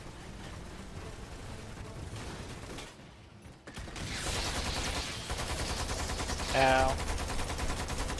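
Enemy turrets in the video game Lost Planet 2 fire rapid bursts of gunfire, crackling and dense, with a short lull before the shooting resumes louder; a player yelps briefly in pain.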